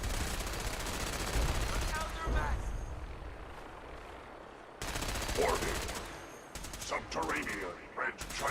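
A chain gun laser in a video game fires in rapid, dense bursts that hammer on for a few seconds, cut off briefly, then start again, with some voices talking underneath.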